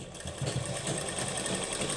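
Sewing machine stitching a seam on palazzo trousers, a continuous close, rapid whirring chatter of the needle running steadily for the whole stretch without pause or voice.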